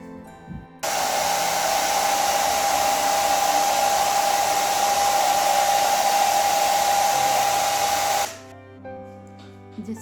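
A hair dryer runs steadily for about seven and a half seconds, drying varnish on a pressed flower lamp, with a loud, even blowing roar that starts and stops abruptly.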